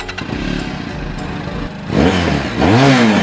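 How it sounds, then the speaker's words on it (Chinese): A 400cc twin-cylinder water-cooled fuel-injected motorcycle engine, fitted to a 2021 domestic H2-style bike, idles roughly, then revs up sharply twice, each rise loud and close. "来听下声浪，同样是400cc 双缸水冷电喷发动机。"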